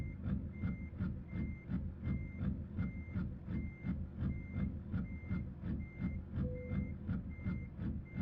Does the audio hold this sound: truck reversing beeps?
yes